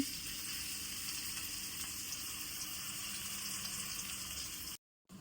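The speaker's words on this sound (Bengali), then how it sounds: "গরম হয়ে গিয়েছে এর ভিতরে আমরা ঝুরি করা পেঁয়াজ দিয়ে দেবো এখন" Chopped onions frying in hot oil in a home kitchen, making a steady, dense hiss and crackle that holds evenly throughout, then cuts out briefly near the end.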